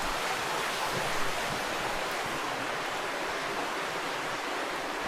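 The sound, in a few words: creek flowing through a cave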